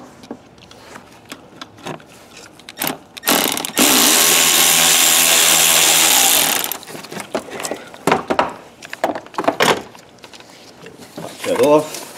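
A power tool runs steadily for about three seconds while removing a 7mm hose clamp on a Volvo throttle actuator, loud and close, framed by clanks, rattles and someone talking between bursts.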